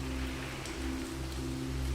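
Steady rain falls at night outside a manor, a constant dense patter with no breaks. A low background hum runs beneath it, and no voices are heard.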